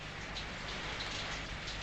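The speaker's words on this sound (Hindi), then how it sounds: "बाहर काफी जोर से बारिश हो रही है।" Heavy rain falls outside in a dense, steady hiss of many drops striking surfaces, unbroken and fairly distant, with no voices.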